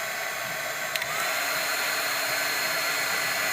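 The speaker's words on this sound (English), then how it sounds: "just make sure you heat these two zones up. Just put a little heat" A heat gun or hair dryer blows hot air onto an iPod Touch 4th gen screen, a steady whooshing whine with a faint click near the start, holding level throughout.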